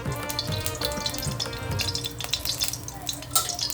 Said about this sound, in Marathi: दोन पळी तेल घालणार आहे